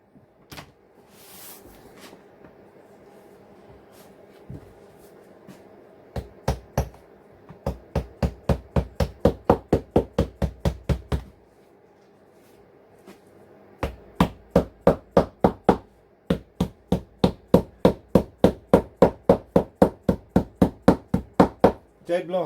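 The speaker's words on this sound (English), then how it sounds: "Dead blow hammer." A dead blow hammer taps seat edging on a Honda CB400T seat rapidly and steadily in long runs of dull thuds, pausing briefly between series, close up with faint background hum.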